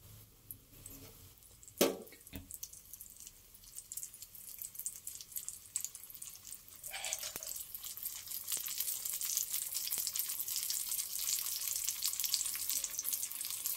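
Bobbatlu, a sweet flatbread, frying in hot oil gives a steady sizzle that grows louder and brighter. A couple of sharp knocks come early on, and nobody speaks.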